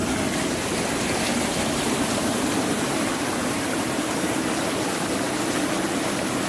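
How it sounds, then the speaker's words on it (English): Jets running in a Saluspa Hollywood inflatable hot tub churn the water, a loud, continuous rushing and bubbling that stays steady and close throughout, with no talking. "This here starts your jets."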